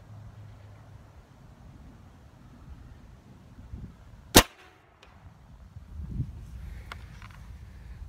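A Benjamin 357 Bulldog air rifle fires a single sharp, loud shot at 3,000 PSI toward a 100-yard target, followed by quieter background noise and a faint distant thump.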